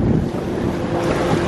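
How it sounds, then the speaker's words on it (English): A sailboat pounds into waves on the 1000 Islands in a stiff wind, with steady wind rumble on the microphone and churning water splashing against the hull throughout, close and loud with no talk. "That's what slows us down, is when we start pounding into waves."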